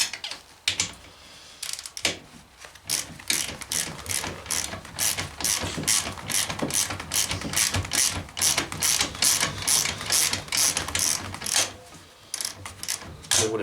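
A ratchet wrench turns a spinning bolt on a Honda CRF 80 dirt bike being stripped down. Close, crisp ratcheting clicks come in quick bursts with brief pauses, repeating steadily for most of the stretch, with no talking.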